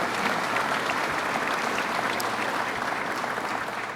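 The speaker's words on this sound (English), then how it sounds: "Let's give them a round of applause, please." Dense, continuous applause from an audience at a dirt-track racing announcement about redeveloping the fairgrounds, loud and even throughout, easing slightly at the very end.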